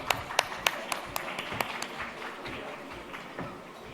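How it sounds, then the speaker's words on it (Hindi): Audience applause for a guest called to the stage at an astrology gathering: sharp scattered claps at first that thin into a softer, fading patter. "संतोष जी के लिए जोरदार तालियां।"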